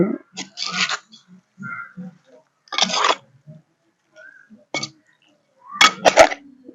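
A spoon stirs chicken curry in a pot after salt is added, making sparse clinks and scrapes in short bursts separated by silence, with a voice speaking between them.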